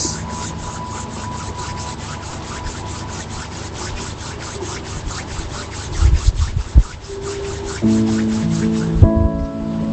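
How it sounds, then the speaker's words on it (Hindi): Palms rubbed together produce a rhythmic, close swishing friction repeated steadily over several seconds, with soft tones lingering in the background and a few thumps near the end. "Rub your palms."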